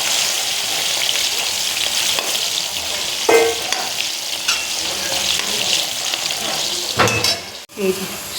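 Hot oil sizzles steadily in a wok as food fries, a dense close crackle with occasional stirring clinks and a scrape near the end.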